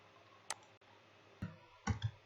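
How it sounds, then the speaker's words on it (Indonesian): A few sharp keyboard key clicks ring out on a quiet desk as Ctrl+D is pressed, with isolated taps and a small cluster near the end. "mengcopy objek ini dengan cara menekan tombol Ctrl"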